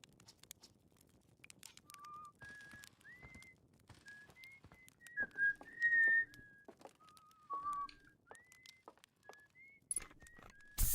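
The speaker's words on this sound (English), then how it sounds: "He's the whistle" A character in the space exploration game Outer Wilds whistles a slow, lilting tune of short rising and gliding notes, fairly faint, over soft in-game footsteps and clicks.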